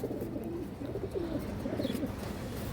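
Small Kajla Giant pigeons coo softly and continuously in a loft, a low murmuring burble with no voices.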